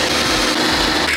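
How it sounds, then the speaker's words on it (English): Power drill boring holes through the inner wing of an Isuzu Trooper, a steady loud whining grind running continuously throughout, close up with no pauses. "Well, right, we're here drilling holes."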